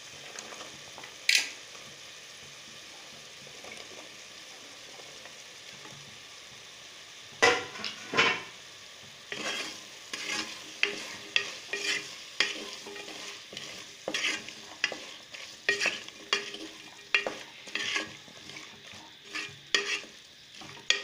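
Diced carrot, beans and potato tossed into a pan of softened tomatoes for vegetable biryani, stirred and sautéed with a soft sizzle and repeated scraping strokes of a spoon, close and moderately quiet, no talking.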